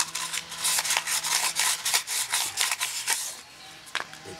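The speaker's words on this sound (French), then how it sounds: "le ponçage est terminé à l'intérieur" A small cylinder of abrasive is worked back and forth inside a brake caliper cylinder, making a close, steady rasping scrape in repeated strokes that fades out toward the end.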